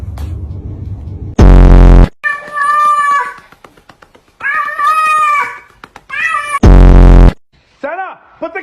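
A cat meows loudly and repeatedly while being carried around, its drawn-out, strained calls coming close to the listener and broken up by sharp bursts of very loud noise.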